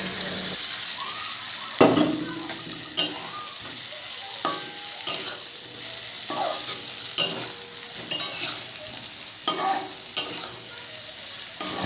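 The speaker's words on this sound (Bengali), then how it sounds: "এর মধ্যে ফুলকপি আর আলুটা দিয়ে আবার একটু ভালো করে কষিয়ে নেবো" Cauliflower and potato are sautéed in spiced oil over low heat for a rohu fish curry, with a continuous sizzle and repeated sharp spatula scrapes and knocks against the pan at irregular intervals.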